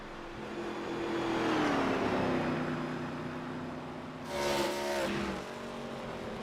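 An ARCA Series race car engine drones at a steady, easing pitch as the car coasts at Charlotte Motor Speedway, with a brief louder whine passing midway.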